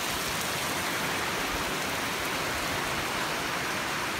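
Heavy pouring rain overflowing 4-inch gutters, a dense, even hiss of falling water that holds steady and fairly soft throughout, with no voices.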